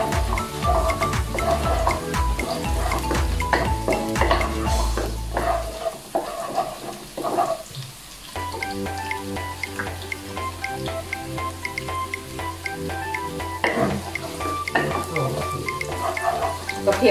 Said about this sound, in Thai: ทอดให้แค่พอเหลืองนิดหน่อยเนาะเดี๋ยวเราก็เอาฟักทองลงไปทอดนะคะ